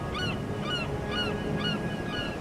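Goose-like birds honk in a regular series of about five calls, moderately loud over a soft ambient bed, in an animated scene set among ancient ruins.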